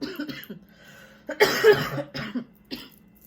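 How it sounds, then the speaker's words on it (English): Several harsh coughs in a dry, bursting cluster, one loud fit in the middle flanked by smaller coughs, close to the mic with no talking. "Maybe that's why I'm coughing so much too"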